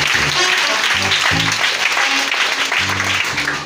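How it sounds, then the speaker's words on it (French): Crowd at a Christmas 2020 seminar in Bregbo applauding loudly, a dense continuous wash of clapping and cheering heard up close, with bursts of amplified voice and music poking through. "Acclamez puissamment ce soir."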